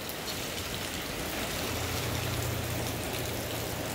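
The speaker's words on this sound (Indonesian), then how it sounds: "dikarenakan lumayan deras ini untuk hujannya" Heavy rain pouring steadily and loudly, a dense unbroken roar of drops on surfaces while people shelter under a house along a road near Alahan Panjang, Solok.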